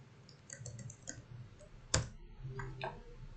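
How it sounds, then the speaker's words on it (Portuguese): Quiet, sparse clicks of keys tapped on a computer keyboard while a search word is entered, a few light taps spaced out, one sharper click standing out, no speech. "Vou digitar janela."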